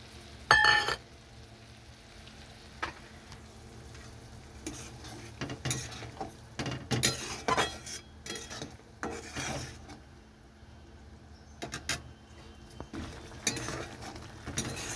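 Bhujia stirred into boiling curry in a cooking pot, with intermittent scraping and rubbing strokes of a spoon against the metal, some louder clanks, over a faint background.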